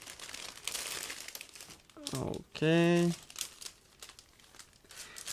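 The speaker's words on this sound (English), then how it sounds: "So this is a resealable plastic bag." Plastic crinkles and rustles as a bag is handled and opened, briefly, with a person speaking quietly before and after.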